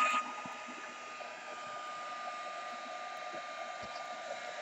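Steady whirring blow of a heat tool held close while setting paint on a mixed-media canvas, a constant loud hum throughout with no talking.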